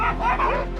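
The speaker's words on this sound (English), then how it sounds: "A violent scene when wild dogs eat a warthog alive." Wild dogs attacking and eating a warthog let out a brief, loud burst of high yips and whimpering cries, close and without voices.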